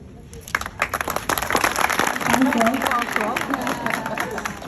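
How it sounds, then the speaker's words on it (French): Scattered clapping honours retiring colleagues at a workplace celebration, individual claps audible up close while voices chatter and murmur throughout the room. "Merci d'applaudir."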